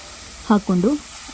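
Halved tomatoes fry in a pan with a steady close sizzling hiss, while a brief voiced sound rises over it partway through.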